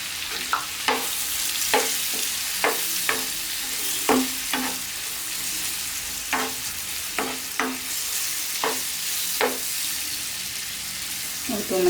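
Mushrooms frying with garam masala and pepper in a pan, a steady low sizzle broken by a dozen or so sharp spatula scrapes and stirs at irregular intervals, close and fairly clear.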